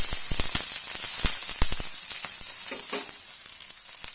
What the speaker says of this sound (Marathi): आता आपण यावर थोडंसं तेल टाकूया आणि छान छानपैकी भाजून घेऊया